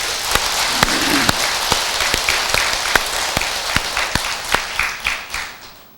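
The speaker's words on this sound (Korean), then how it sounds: "박수 한번 주세요" Applause from a Buddhist temple congregation, many hands clapping steadily with a few sharper claps standing out, fading toward the end.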